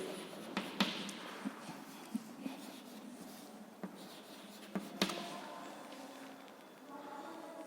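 Chalk tapping and scraping on a classroom board during an English lesson, with intermittent sharp taps and light scratching strokes over quiet room tone, fairly close.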